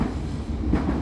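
A train rumbles past at close range, a steady, loud low-frequency roar that holds through the whole brief moment with no voices.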